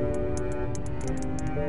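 Big whales underwater in the game Beyond Blue, clusters of rapid clicks over a dense low drone with sustained tonal layers.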